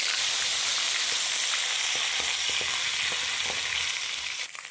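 Mustard seeds, cumin and ginger-garlic paste fry in hot oil with a loud, steady sizzle and faint crackles and pops, close up and without talk.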